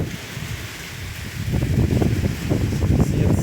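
Blustery wind sweeps a small backyard stadium on a May day, a low, buffeting rumble on the microphone that grows heavier and more turbulent midway and stays loud to the end.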